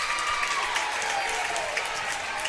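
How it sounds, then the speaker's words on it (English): Summertown high school basketball fans clap sarcastically after a foul in a gym during a game against Fairview, a steady ripple of applause with crowd murmur underneath. "Summertown fans sarcastically applaud the first foul they've seen in quite a while"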